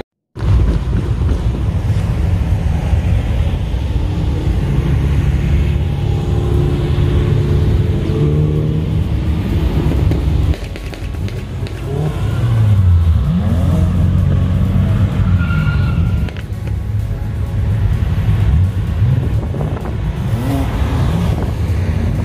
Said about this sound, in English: So start your cars